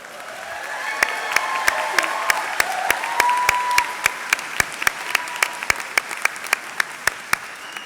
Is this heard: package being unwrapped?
no